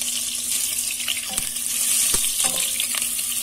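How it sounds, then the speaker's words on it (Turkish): Margarine and vegetable oil heating in a pot on the stove, a low steady sizzle with a few sharp clinks and knocks against the metal, close by and without speech. "Yağımızı iyice kızdıralım."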